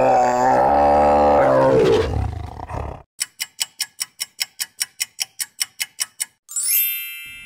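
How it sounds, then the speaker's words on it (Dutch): A tiger gives a loud, deep roar that rises and falls for about three seconds in a zoo animal-sounds quiz for children, followed by a run of even clock-like ticks and a rising chime. "De tijger."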